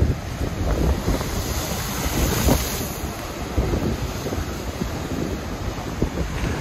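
High ocean waves breaking on the shore at Cala Ratjada, Mallorca, a loud churning surf roar with repeated crashes, heavy wind buffeting the microphone and no voices.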